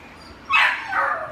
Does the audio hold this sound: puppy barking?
yes